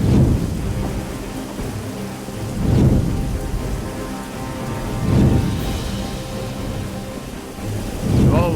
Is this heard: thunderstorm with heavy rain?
yes